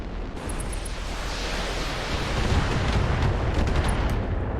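Missile volley explosions in the BattleTech mech combat game, a loud, continuous rumbling roar of blasts that swells toward the end, with faint high beeps layered on top.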